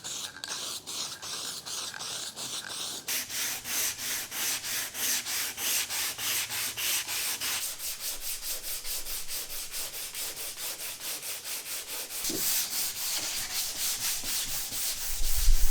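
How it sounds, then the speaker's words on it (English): Steady back-and-forth sanding of a car bonnet coated in black guide paint, a rhythmic rasping scrub that runs continuously and close, shifting tone partway through with a brief knock near the end. "then we can start sanding them down"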